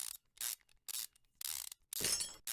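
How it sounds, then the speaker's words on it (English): Slow unbolting of a belt tensioner in Car Mechanic Simulator 2015, heard as five separate bursts of mechanical ratcheting, each roughly a third of a second long with short silent gaps between them, clear and alone with no talk. "Take off this belt tensioner. And once again, I gotta get used to the slow unbolting again."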